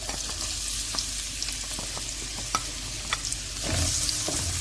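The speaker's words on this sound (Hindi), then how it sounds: "अब इसी ऑयल में मैं प्याज डालने लगी हूँ।" Onions added to hot oil: a continuous bright sizzle of frying with occasional stirring taps and scrapes, swelling louder near the end.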